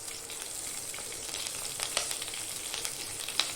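Half a tomato and a sprig of curry leaves sizzle in a hot pan for a beef roast, a steady bright frying hiss with small pops and crackles throughout.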